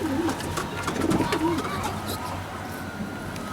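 Racing pigeons from a competition loft coo in soft, low repeated calls close by, over steady background hum, with a faint voice in the background.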